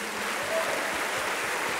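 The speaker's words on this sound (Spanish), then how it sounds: "Podemos honrarle una vez más a nuestro Dios con un aplauso" Congregational applause during a Spanish-language worship service, a steady wash of clapping throughout with a faint sustained tone briefly audible underneath.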